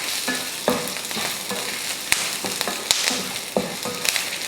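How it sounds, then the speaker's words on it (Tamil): Dried red chillies, tamarind and curry leaves sauté in a pan, giving a continuous close sizzle broken by sharp clacks of a spoon stirring against the pan, with no talk. "அடுத்து ஒரு சின்ன சைஸில் புளி, கொஞ்சம் கருவேப்பிலை எல்லாம் சேர்த்துட்டு இதையே வதக்கிடலாம்"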